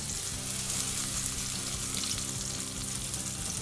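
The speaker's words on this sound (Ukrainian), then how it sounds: "Все смажимо." Steady, dense sizzling of olive oil frying in a pan, continuous and close, with no speech over it.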